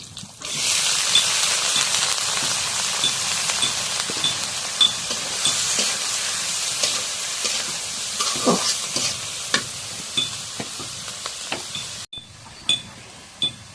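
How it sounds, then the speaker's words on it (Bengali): Gourd peel and potato pieces sizzle in hot oil in a home kitchen pan, a steady loud frying hiss with scattered crackles and light stirring clicks, broken by a brief gap near the end. "এখন ভাজিগুলো দিয়ে দিই তেলের মধ্যে"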